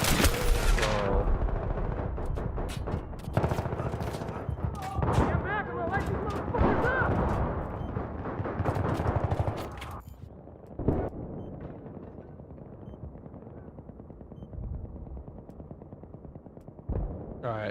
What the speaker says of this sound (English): AK, bro, with the suppressor is pretty phenomenal